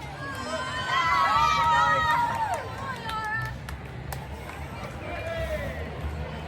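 A roadside crowd cheers and shouts along the London Marathon route near the mile 12 water station, a swelling wash of voices and whoops that peaks early and then eases while the listener runs past.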